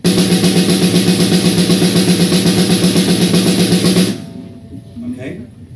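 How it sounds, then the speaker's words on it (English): Drum sticks at a drum clinic play a fast, even roll that moves from single strokes to double strokes, loud and steady for about four seconds before stopping abruptly, followed by faint room noise. "One of the most difficult things, single stroke to double stroke."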